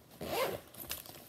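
A zipper pulled along the back pocket of a Kipling bag, one quick close zip followed by a shorter second pull, faint with no talk.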